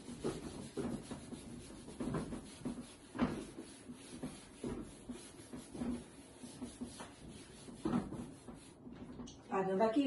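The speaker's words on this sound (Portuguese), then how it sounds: "Apagando aqui" Eraser or cloth rubbing across a board in a math lesson, a series of short scrubbing strokes in irregular rhythm, moderately close, with a voice speaking intermittently between and over the strokes.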